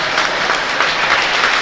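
Applause at the award ceremony of the Trofeo Promote HP youth tournament in Castiglione, 2023: a loud, sustained clatter of many hands clapping together, rising and falling slightly across the whole short stretch.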